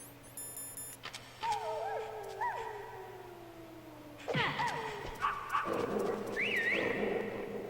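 Dog barking and whimpering in the Metal Gear Solid PlayStation game, a run of yips and yelps rising over a steady game-background hum, growing louder and busier in the second half.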